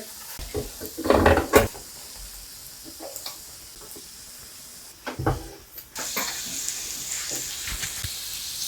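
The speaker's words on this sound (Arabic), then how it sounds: "هلا بنحمصهم شوي محل ما شوينا اللحمه مشان تتشرب بنكهه اللحمه الطيبه" Bread rolls, halved and slit, toast on a hot pan still greasy from grilled meat, giving a soft sizzle with occasional clinks and scrapes of a utensil, a louder burst near the start and a steadier hiss toward the end.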